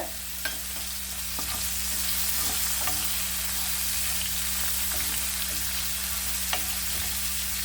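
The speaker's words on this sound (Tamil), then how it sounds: "இஞ்சி பூண்டு நல்லா அந்த பச்சை வாசனை போகிற அளவுக்கு லேசாக வதக்கிட்டு" Ginger garlic paste, cumin and curry leaves sautéing in a pan for Kerala-style chicken curry, a constant close sizzle with faint occasional clicks of stirring, no voices.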